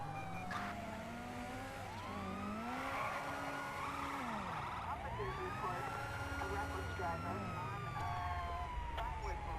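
A police car siren in the video game GTA V wails in repeated rising and falling sweeps over a low engine drone, loud and continuous.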